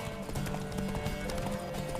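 Steady clip-clopping of horse hooves in The Witcher 3: Wild Hunt, close and continuous, with a busy rhythmic backdrop of other game sounds.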